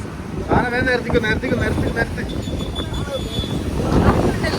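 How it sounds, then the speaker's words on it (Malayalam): Wind gusts across an open beach, buffeting the microphone with a low rumble while voices chatter nearby. "നല്ല കാറ്റ് അടിപൊളി"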